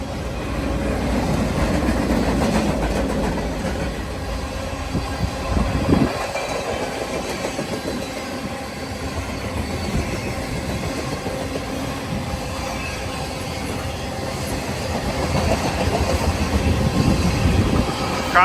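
Freight train rolling through the town of Brooks, Alberta, Canada: a long, steady roar of rail cars with rumbling wheels and clatter, loud and continuous throughout, swelling slightly toward the end.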